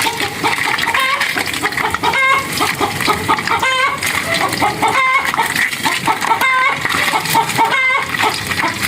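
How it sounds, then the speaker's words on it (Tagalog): A chicken clucks repeatedly near a rural wood-fired cooking spot. The calls are loud and recur every second or so over a dense, noisy background. "May manok o, nag-iingay."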